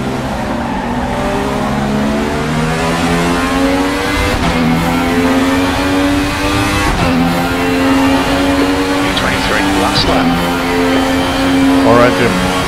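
An Alfa Romeo 155 TI DTM race car screams at the rev limit in the RaceRoom racing game at Motorsport Arena. A loud, harsh, sustained engine whine holds steady for the whole stretch, with a few brief dips and rises in pitch.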